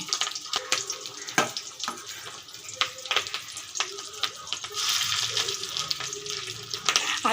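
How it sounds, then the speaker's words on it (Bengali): Small pieces of fish roe dropped one by one into hot oil crackle and sputter in sharp bursts over a steady frying hiss, close up, with a voice speaking at times. "আমি এগুলো একে একে সুন্দর করে তেলের মধ্যে দিয়ে দিচ্ছি"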